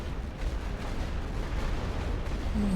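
Artillery fire in the World War I strategy game The Great War: Western Front makes a dense, continuous rumbling barrage of overlapping blasts that holds steady and loud throughout, with no talking.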